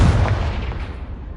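Confringo blasting spell cast in the Hogwarts Legacy video game: a loud, booming burst with a heavy low-end thump at the start that rolls into a broad, decaying rumble over about a second.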